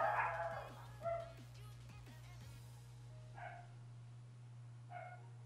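Dogs barking indoors in short bursts, with a few separate barks and yips spread across a few seconds against a constant low hum.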